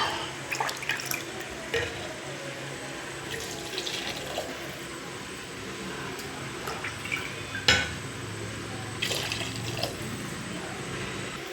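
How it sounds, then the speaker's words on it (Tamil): Water is poured from a tumbler into soaked rice in a pot while cooking mushroom biryani, giving a continuous splashing and trickling with a few sharper splashes, close and fairly quiet, with no talk. "இதில் இப்போ நம்ம 5 டம்ளர் தண்ணி ஊற்றணும்."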